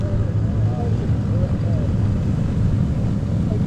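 A Lockheed Electra idles at the Duxford Battle of Britain air show as it prepares to taxi, giving a loud, steady, low engine drone that continues without a break throughout.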